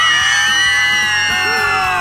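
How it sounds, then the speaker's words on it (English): A school crowd cheering at a Handball Blitz event in Brisbane, a loud sustained roar of many young voices yelling and whooping together, filling the whole moment with high-pitched shouts. "to give our first official Handball Blitz cheer 2024,"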